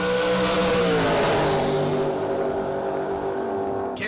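A Chevrolet Nova drag car launches at an outlaw drag race at SGMP, a loud engine roar with falling pitch as it pulls away down the track.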